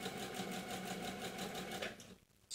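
Sewing machine stitching a French seam, running in a continuous fast, even whir close by, then cutting off abruptly.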